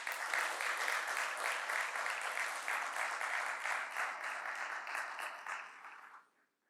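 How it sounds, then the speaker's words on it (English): Sustained audience clapping at a motivational talk, steady and dense throughout, dropping away abruptly at the very end. "I want some claps for that."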